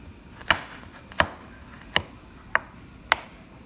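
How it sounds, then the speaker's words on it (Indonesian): Knife chops shallots and garlic into small pieces on a board, five sharp, separate thuds at an uneven pace, close and clear over a quiet background. "kita lanjutin bawang merah, bawang putih ya, dipotong kecil-kecil dulu"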